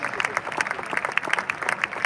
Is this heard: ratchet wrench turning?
no